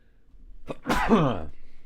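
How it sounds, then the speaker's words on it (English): A single loud sneeze close up, with a quick intake of breath just before it. "I'm going to sneeze again."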